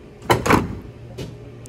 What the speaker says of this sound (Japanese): 今ホロが連結されました。